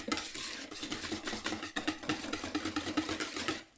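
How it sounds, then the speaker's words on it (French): Warm milk quickly whisked into a homemade tiramisu mixture in a bowl, rapid rhythmic scraping and clinking strokes repeating close up, without talk. "je verse ça dans la préparation précédente. Je viens mélanger"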